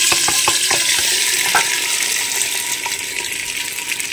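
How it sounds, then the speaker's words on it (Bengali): Meat hits hot oil with whole spices in a clay handi. A burst of clinks and clattering opens, then an even, close sizzle settles in and grows slightly softer toward the end. "এখন এই হাঁড়ির মধ্যে মাংসগুলো দিয়ে দেব,"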